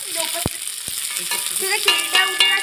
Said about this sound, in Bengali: এবার আমি ভালো করে মিশিয়ে নিচ্ছি